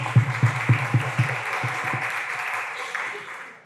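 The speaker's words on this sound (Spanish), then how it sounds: "Un aplauso." An audience breaks into applause, starting with a run of distinct rhythmic claps that blend into a wash of clapping, which gradually fades.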